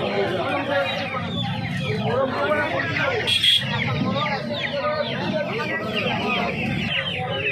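Kadaknath chicks in cages at the Uluberia Saturday morning hen market, clucking and cheeping steadily alongside other fowl, with a continuous babble of nearby voices underneath.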